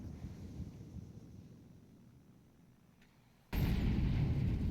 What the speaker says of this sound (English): Early incendiary.